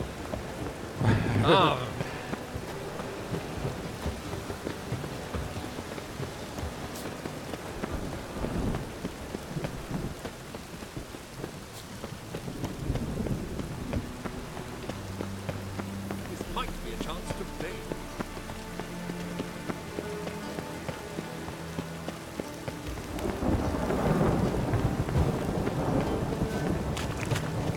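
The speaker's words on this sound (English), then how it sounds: "Storm, damn it. I'll get lashed." A rain and thunder storm in The Witcher 3 brings steady rainfall patter with rolling thunder swelling in several places, loud near the start and end, while a man gives brief exclamations.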